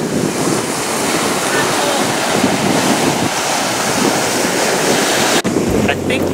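Gusty wind buffets the microphone at a poorly sheltered sea cove on the Costa Brava, with continuous loud roaring wind mixed with surf that drops abruptly near the end.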